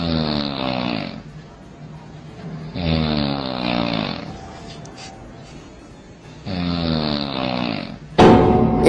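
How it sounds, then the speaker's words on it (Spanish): Loud snoring from a person, several long rasping breaths with pauses between them, ending in a sharp noisy burst. "TikTok mejores ronquidos."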